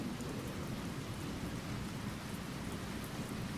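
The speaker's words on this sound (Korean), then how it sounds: "오늘 이렇게 빗소리가 내리는 것처럼" Heavy rain pours with thunder in a steady, dense hiss, and a low rumble sits underneath for the whole stretch, with no voices.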